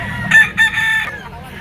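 A gamecock stag crows loudly and close at a Sunday rooster market, a short broken cock-a-doodle-doo with a few sharp bursts of call. Faint murmuring from the crowd sits underneath.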